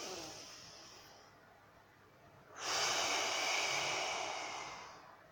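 Slow meditative breathing heard close up: a soft, drawn-out breath followed by a louder, airy exhale lasting a few seconds, faint and alone.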